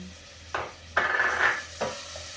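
Sliced onions go into a hot pan for a Sylheti tomato tenga and sizzle in three short bursts, the middle one the longest and loudest, over a quiet background.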